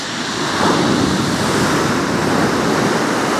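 Waves wash over a shingle and pebble beach at Lulworth Cove in strong wind, a continuous loud roar of surf and gusting wind noise without any voices.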